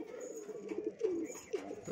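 Soft, throaty cooing from a crested-feather pigeon, several rolling coos in a short run, fairly close with a low background hum.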